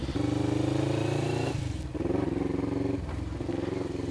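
A Suzuki GSX 250 Invader motorcycle idles steadily after a kickstart, a loud, close, throbbing engine rumble that wavers briefly around the two- and three-second marks, with no voices.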